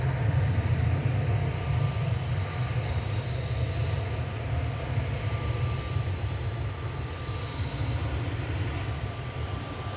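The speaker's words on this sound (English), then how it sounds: "that's Cathay Pacific Flight 219, operated by BLQA and A350-900" A Cathay Pacific Airbus A350-900 on arrival at Manchester Airport from Hong Kong, a loud, steady, low jet rumble that holds unbroken and close throughout, with no voices.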